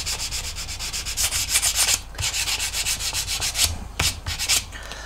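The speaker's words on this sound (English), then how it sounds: "I'm just going to use a tiny bit of sandpaper just to finish that edge, that corner." Sandpaper rubs against the painted edge of an MGB cylinder head in quick, rhythmic scratchy strokes, close and fairly loud, with a couple of short pauses and no talking.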